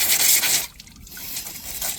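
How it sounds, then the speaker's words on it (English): A gourd being rinsed under running water, giving a short burst of splashing and trickling followed by quieter dripping and scraping as the rinse tapers off. "you just take it and we rinse it"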